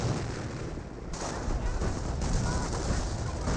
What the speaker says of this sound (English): As Grenadiers receive a bit of fire there from the riflemen.